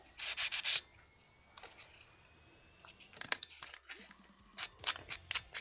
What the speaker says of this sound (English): This is like good music for my aggressive sanding.